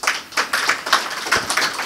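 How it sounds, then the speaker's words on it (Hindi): Audience clapping hands in unison at a spiritual gathering, a steady rhythmic beat of about seven loud group claps, close and clear with no talking. "अब ताली बजाओ।"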